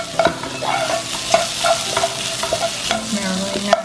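Dried jumbo shrimp sizzle in a hot pan as onion powder, garlic powder and red black pepper are stirred through, with repeated scraping strokes of a utensil over a constant frying crackle, close up.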